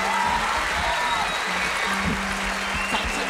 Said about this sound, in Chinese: 掌声要鼓励，掌声要鼓励